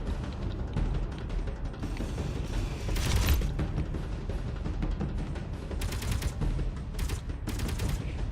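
Gunfire at a ship in the space game Space Engineers, rapid bursts of automatic fire rattling continuously over a dense mechanical rumble, with several louder volleys cutting through near the end.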